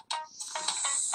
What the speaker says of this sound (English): I don't know why it's still going off. Let me just turn the phone off.